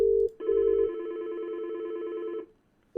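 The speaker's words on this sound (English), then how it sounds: "I'm going to be dialing the extension 9003." Tones from an IP phone dialing an extension: a few short tonal beeps at the start, then one long steady tone lasting about two seconds, clean and close, followed by a brief pause and another beep.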